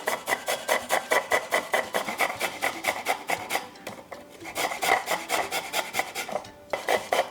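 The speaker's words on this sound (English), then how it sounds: "we're going to grate the piece of galangal" Fresh galangal root rubbed against a kitchen grater, a steady rhythm of quick rasping strokes, close and clear, with a short pause midway before the scraping resumes.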